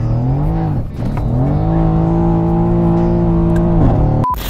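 A Mercedes C63s AMG with Stage 3 tuning roars loudly up through the revs, drops briefly on a gear change, then climbs hard again in a sustained, close-up engine howl before cutting off.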